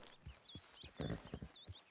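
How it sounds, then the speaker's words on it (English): Horse hooves in Red Dead Redemption 2 clop rapidly on the ground as the horse brakes hard, a quick uneven run of thudding steps with faint bird calls in the background. "Horse sounds like she's breaking pretty hard."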